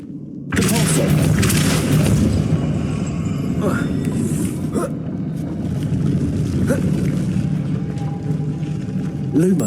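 Depulso spell effect in Hogwarts Legacy, a sudden loud whooshing blast that rolls into a sustained rumbling roar with a few sharp cracks, close and full.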